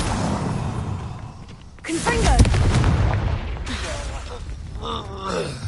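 In a video game on PS4, a Confringo spell explosion lands as a sudden booming blast followed by crackling and rumbling debris, with grunts and vocal effort sounds over it.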